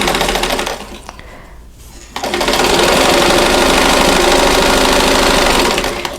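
Sewing machine stitching quilt patches together for a diamond four-patch block, running loud and steady in a continuous mechanical whir after a brief quieter pause near the start.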